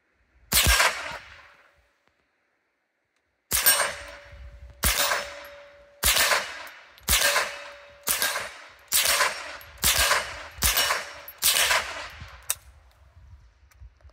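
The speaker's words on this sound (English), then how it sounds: "So shoot a little bit." A Savage Arms .22 rifle with a small 4x15 scope fires outdoors: one sharp shot, a pause of a few seconds, then nine more loud, evenly spaced cracks, each with a short fading echo.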